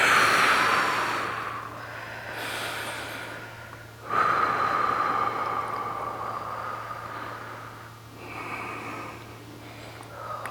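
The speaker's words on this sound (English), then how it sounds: "Nice deep breaths." Slow, deep breathing during a yoga hip stretch in a bodyweight workout, with long audible inhales and exhales repeating at a calm, steady rhythm close to the microphone over a low steady hum.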